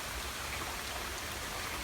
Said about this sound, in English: Just straight up pouring rain